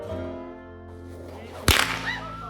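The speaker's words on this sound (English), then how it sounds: "today I'm going to teach you how to crack whips" A single sharp, loud whip crack at a kids' camp in Victoria, Australia, sounds once near the microphone over a steady low tonal hum, followed by a brief whistling tail.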